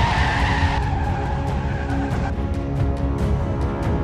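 Car tires skid and screech loudly in a road accident, a sustained harsh squeal over a rumbling engine that keeps going with several sharp bursts throughout.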